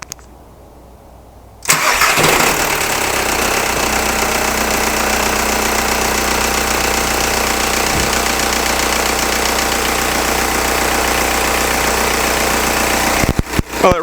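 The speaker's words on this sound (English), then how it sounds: "All right, let's start it up and see how it looks." A VW TDI diesel engine with an EGR race pipe cranks briefly and catches, then settles into a loud, steady idle with a rough diesel clatter, close up, no talking, with a brief disturbance near the end.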